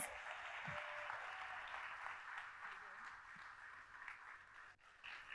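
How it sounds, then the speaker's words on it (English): Steady applause from a crowd, a dense wash of many hands clapping at an even level, heard from a distance throughout. "Give yourselves a round of applause."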